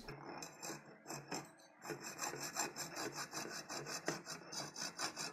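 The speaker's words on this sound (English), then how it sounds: "To remove the fins, I use this iron cutter." An iron cutter working through aluminium heatsink fins on laptop RAM: quiet, steady rhythmic scraping and rasping strokes in quick succession, with a brief pause near the start.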